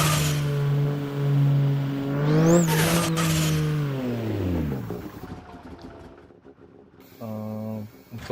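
Racing video game car drifting, played on a steering wheel: a loud, steady engine drone with rising revs and a swooping pitch change, then fading down before a brief second burst of engine tone near the end.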